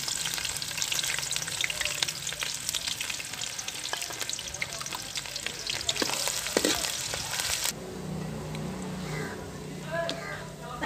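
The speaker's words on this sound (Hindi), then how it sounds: "पहले हम प्याज को ब्राउन करेंगे।" Chopped onions fry and brown in hot oil in a pan, giving a steady, dense crackling sizzle with scattered sharp pops, which softens and quiets abruptly partway through.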